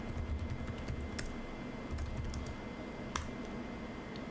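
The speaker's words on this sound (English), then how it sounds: "we needed to type the following command in" Typing on a computer keyboard to enter a command, with a steady stream of close, soft key clicks and a few sharper taps, with no talking.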